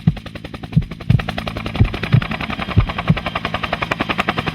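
A helicopter in a horror audio drama thuds with steady rapid rotor chopping, loud and close, holding a continuous rhythmic beat throughout with no voices.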